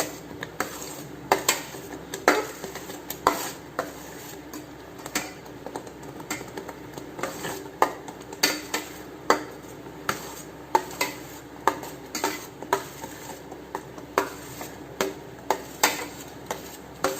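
A ladle scrapes and clinks against a pan while pazham pradhaman cooks with ghee and jaggery, a steady series of metallic knocks repeating roughly every half second, close by, with no talking.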